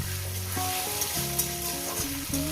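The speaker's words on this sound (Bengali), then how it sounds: "পেঁয়াজ কুচিটাকে দিয়ে মিনিমাম দু থেকে তিন মিনিট সেটাকে ভেজে নিই" Chopped onions frying in a pan for a curry, a soft continuous sizzle with a few light stirring touches, close and moderately quiet.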